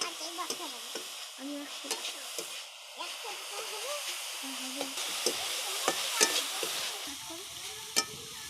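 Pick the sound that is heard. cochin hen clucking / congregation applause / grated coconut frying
grated coconut frying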